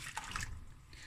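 Two liters of hot water poured into a pot of samp and bean soup with celery, a brief close trickle and splash fading quickly into quiet.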